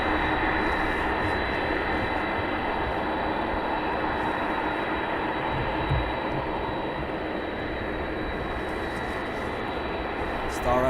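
Star Air aircraft departing at night from East Midlands Airport, a loud, sustained broadband jet roar with a thin high whine, steady and close for the whole stretch, no voices over it.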